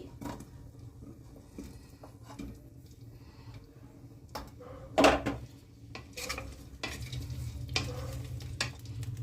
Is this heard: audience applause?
no